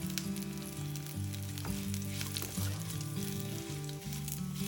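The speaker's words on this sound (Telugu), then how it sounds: "ఇప్పుడు కొద్దిగా కరివేపాకు వేసుకుందాం." Curry leaves sizzle and crackle in hot oil in a pan at a soft, steady level, with low background hum and no talking.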